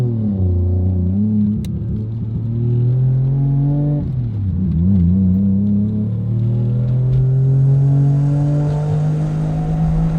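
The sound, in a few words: rotary engine car revving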